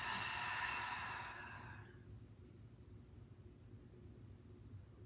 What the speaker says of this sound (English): Big inhale breath. Big exhale breath.